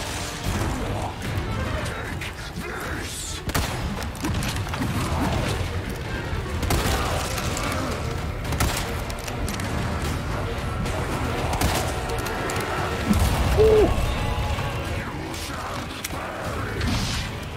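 Dense, constant gunfire and clanking combat noise fill Resident Evil 4 Remake on Hardcore difficulty, repeated shots and impacts blending into a loud, busy din with no clear gaps.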